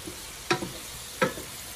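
A spoon stirs saltfish frying in a pan, with two short scraping strokes over a soft steady sizzle, close by and no talk.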